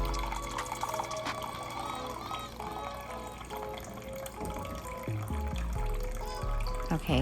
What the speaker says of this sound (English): Here we're going to measure out 2 cups of water.